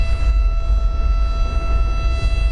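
In the GTA V LSPDFR game, a tornado roars near a highway as a constant heavy low rumble with a faint steady hum above it, unbroken and with no voices.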